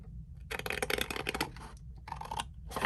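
Paper card is cut along a score line in a few bursts of scratchy scraping, with brief pauses between strokes, close and fairly quiet.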